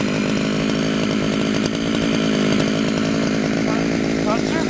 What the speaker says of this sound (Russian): Сейчас будем другой пилкой.